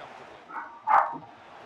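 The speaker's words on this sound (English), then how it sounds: "if you can hear my dogs barking" A dog gives a couple of short, fairly close yips or barks, one louder than the other, over a quiet indoor background with no talking.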